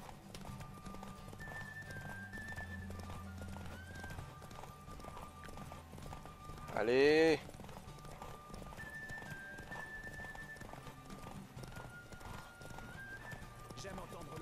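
Horse hooves clip-clop steadily throughout in The Witcher 3, with a brief whinny midway, while a voice speaks over the game's music and ambience.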